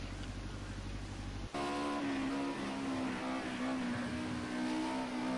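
A Mercedes 190E Group A touring race car at Oschersleben gives a loud, continuous engine note that shifts abruptly early on and then holds a steady, buzzing tone as the driver eases off the throttle.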